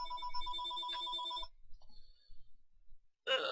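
A telephone rings in a classroom during a college algebra lecture: a loud, close electronic ring with a steady warbling tone for about a second and a half, then a few faint clicks and a brief noisy burst, with no talk.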